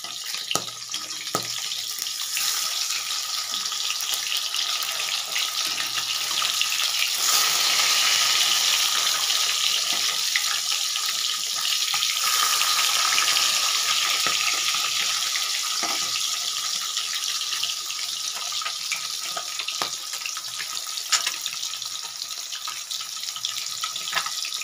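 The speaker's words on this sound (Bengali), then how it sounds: "মাছগুলো এক পিঠ ভাজা হয়ে এসছে" Katla fish fry in oil in a pan at home, giving a continuous bright, close sizzling hiss. It swells slightly at times and carries a few faint clinks over its full length, with no voices.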